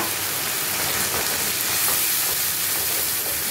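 Turmeric, chili and cumin powders frying in oil in a pan, a steady, loud, close sizzle and hiss that runs unbroken throughout.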